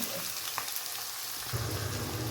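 Onions, curry leaves and green chillies fry with peanuts in hot oil for puliyogare, giving a constant crackling sizzle that thickens and grows busier as the fresh ingredients hit the pan, no voices.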